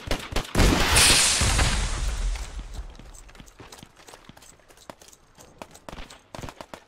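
Gunfire in the World War II shooter Hell Let Loose: a loud nearby blast with a long rumbling tail, followed by scattered sharp shots and cracks of varying distance, one after another, with footsteps mixed in.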